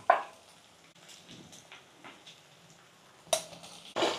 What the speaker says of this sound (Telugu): ఇంకా అల్లం ఎల్లిగడ్డ వేసేసినాం కదా, మంచిగా కలిపేసి.